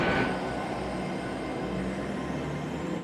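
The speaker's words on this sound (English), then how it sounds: "currently on the train, just about to leave Filton Abbey Wood, heading on to the next station" Aboard a train about to leave Filton Abbey Wood station in Bristol, a constant loud rumble and hiss of the carriage fills the whole stretch, steady with no voices.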